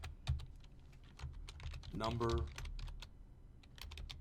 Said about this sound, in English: So I can just start typing now.